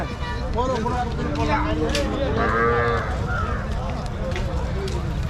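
Cattle low and moo repeatedly at the crowded Mattrapalli cattle market in Tamil Nadu, several calls overlapping at middling distance beneath steady crowd chatter and nearby speech.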